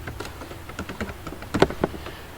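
Computer keyboard typed on while using Proteus PCB design software: a quick, irregular run of soft key clicks, with a few louder taps toward the end.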